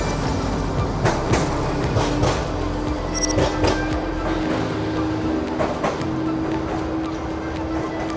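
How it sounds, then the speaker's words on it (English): An old tram in Melbourne rolls past nearby with rhythmic clacking over the rails, a rumbling body of noise and a brief high squeal partway through. "Super old tram."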